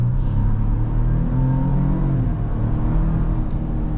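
A 2026 Ford Ranger Lariat V6 engine accelerates from the cabin, a steady low rumble with rising harmonic sweeps as revs climb, loud and continuous throughout with no talk.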